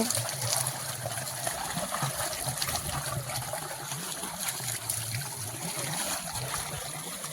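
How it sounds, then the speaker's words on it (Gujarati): Irrigation water flowing on a farm once the pump power returns, a steady close trickling and splashing stream running throughout without speech. "પાણી આવ્યું ને પાવર આવી ગયો હો"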